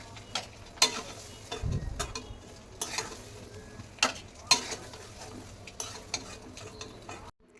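Boiled eggs browning in a pan for an egg korma, with a soft, quiet sizzle broken by scattered clinks and scrapes of a utensil stirring and turning them.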